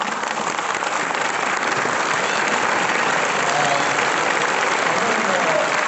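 An audience in a university auditorium during the chairman's lecture at NIT Durgapur breaks into sustained applause, a thick, even roar of many hands that stays constant and loud for around six seconds.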